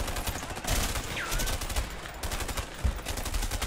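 Gunfire rattles through a shootout in the video game A Way Out, with loud, rapid bursts and single shots layered over steady background din for a few seconds.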